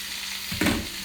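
Steady sizzling of food frying in a pan, a soft crackling hiss with a brief louder burst as it is stirred or shifted.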